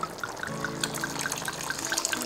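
Merlot red wine poured into a lamb stew, a steady liquid trickle and splash lasting a couple of seconds, close and clear with no talk over it.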